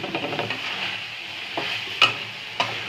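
Onion and capsicum stir-fry in a hot pan, a soft continuous sizzle broken by a few sharp scrapes and taps of the spatula against the pan.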